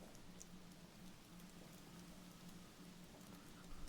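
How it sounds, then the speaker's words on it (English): Steady rain in the horror video game Repent, a soft, even hiss of falling drops with faint pattering, constant and fairly quiet with no voices over it. "Rain again."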